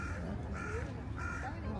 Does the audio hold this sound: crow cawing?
yes